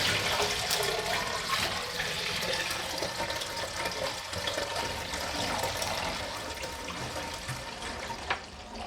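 Water poured from buckets gurgles and rushes down the washing machine drain plumbing in a mudroom, a loud close continuous churning flow that slowly eases off.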